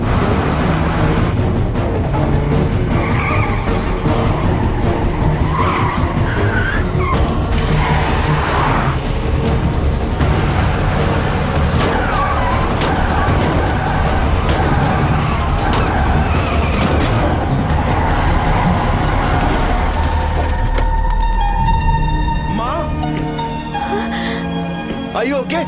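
A car with failed brakes skids and slides, tires squealing over continuous loud engine roar and road noise, with people talking urgently throughout.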